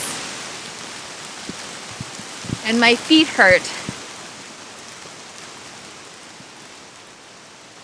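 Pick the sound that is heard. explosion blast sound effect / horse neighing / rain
rain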